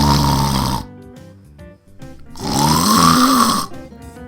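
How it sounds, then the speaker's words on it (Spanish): A man asleep snores heavily and loudly, two long rasping snores separated by a quiet breath, close up with no talking. "él ya estaba dormido y roncando durísimo"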